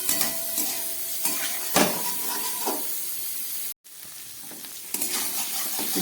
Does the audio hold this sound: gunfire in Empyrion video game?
no